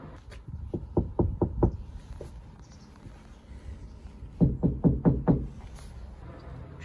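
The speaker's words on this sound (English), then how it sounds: "The door is more of a dull thud than a light ting." The sliding door panel of a VW T5 van, lined with sound-deadening material, is knocked in two quick bursts of about five dull, muted thuds each, close up, with quiet gaps between.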